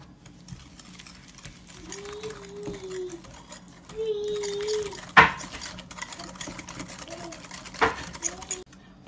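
Egg yolks and sugar are mixed for tiramisu, producing a steady whirring hum broken by scraping and a few sharp clinks against the bowl, all close and moderately loud.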